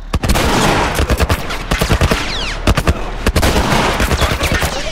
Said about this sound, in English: Some kind of military turret.